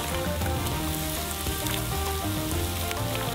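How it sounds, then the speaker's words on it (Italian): Hot broth poured over raw duck skin sets off loud, dense sizzling and crackling, a continuous close hiss throughout with no voices. "Versiamo del brodo caldo sulla loro pelle."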